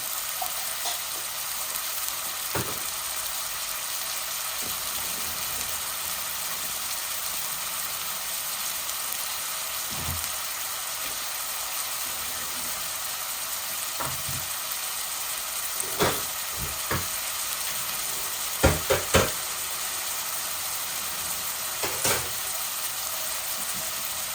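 Boneless chicken breast frying in a pan with onion, chili and spices, a steady broad hiss of sizzling with occasional soft clinks and scrapes, close and even in level, with no talk.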